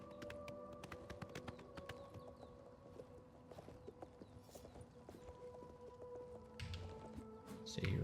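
Horse hooves clip-clopping in Oblivion Remastered, a rapid stream of faint taps over a steady ambient game soundscape with low tones, quiet and continuous throughout.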